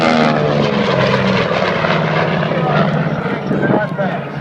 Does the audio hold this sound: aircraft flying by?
yes